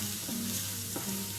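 Roasted chana dal stirred into a spinach mixture in a pan, with a soft, quiet sizzle and a brief scrape or two over a short span.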